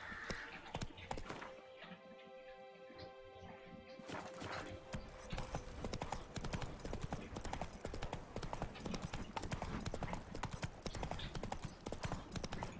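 Hooves of a galloping horse in the video game The Witcher 3 beat in rapid, continuous clip-clop rhythm, briefly pausing near the start before resuming steadily and fairly close.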